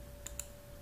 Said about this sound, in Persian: پس روی این گزینه انتخاب کلیک میکنم